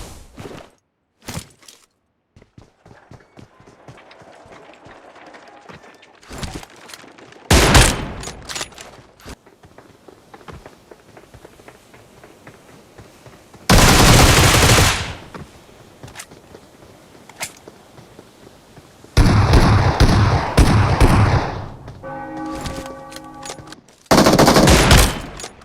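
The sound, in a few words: gunfire in PUBG video game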